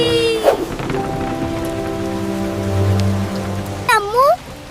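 Rain falls in a Bengali Islamic children's cartoon, a steady wash of patter running through the scene beneath sustained music-like tones, with a short rising and falling chirping flourish near the end.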